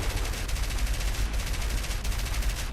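A rear gunner on an aircraft in a video game fires a machine gun in one continuous, loud, rapid burst of rattling shots. The fire barely pauses for the whole stretch, with no voices over it.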